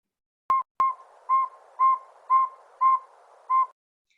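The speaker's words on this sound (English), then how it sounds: "But nope, just this cute little owl." A small owl calls in a series of seven short, clear hooting whistles at an even pace, preceded by two sharp clicks, close and fairly loud in an otherwise quiet setting.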